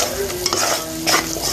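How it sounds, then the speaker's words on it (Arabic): Honey syrup boiling in a pot while a spoon stirs it: close, continuous bubbling and sizzling hiss with scraping swirls of the spoon, loud and alone. "بص بيغلي ازاي اهو كده، يغلي كده ببعضه"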